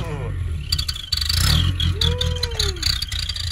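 Car engine revving with an aftermarket Amazon turbo whistle fitted on a rusted exhaust pipe, a loud close rumble with a rising and falling whistle tone over it, with people talking.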